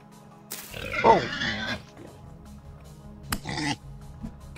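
A pig in the video game Vintage Story oinks and grunts close by, with a rough squealing burst followed by a shorter grunt a few seconds later, over a low ambient hum.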